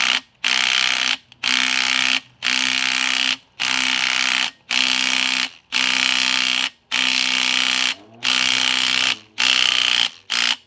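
A power tool drives a bolt back into a crankshaft pulley in loud, steady whirring bursts, about ten of them, each lasting roughly a second with short pauses between.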